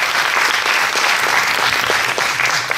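Steady, loud applause from an audience at an eloquence contest, welcoming a lawyer as she is introduced, the clapping dense and continuous throughout.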